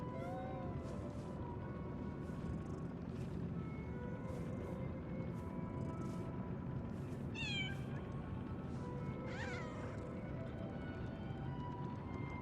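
Several soft cat meows from the video game Lies of P, rising and falling calls scattered over a steady hum of background game ambience and music.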